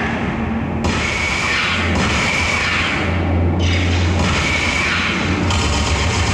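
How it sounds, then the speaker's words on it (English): Flashbang blasts in Star Wars: The Old Republic combat, loud bursts with sharp broadband onsets recurring over a constant dense roar of game effects and rumble. "Nice flashbang there."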